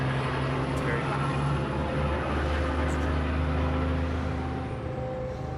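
Truck stop traffic beside an RV park rumbles in a steady low drone of idling and passing engines, with faint tonal hums and a brief distant whine; no talking is heard.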